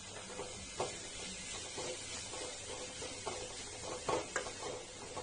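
Chopped onion with ginger, green chili and garlic sautés in a pan, giving a faint steady sizzle broken by scattered scraping stirs.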